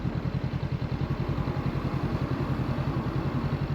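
A Honda CBR motorcycle climbing the steep, wet Hardknott Pass, its engine giving a steady, rapid pulsing throb that is close and continuous, with no speech.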